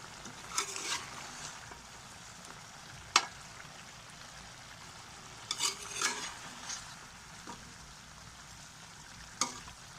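Chicken with finely chopped tomatoes fries in a pan with a low, steady sizzle, broken by occasional scrapes and clinks as a utensil stirs it; fairly quiet, no talking.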